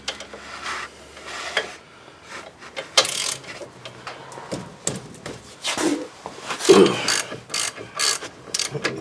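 Long-handled ratchet working bolts on a seized wheel hub, giving bursts of close, rapid clicking in irregular runs with metallic knocks and pauses between strokes.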